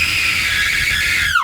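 A woman lets out a sustained high-pitched scream, loud and steady, breaking off abruptly at the end.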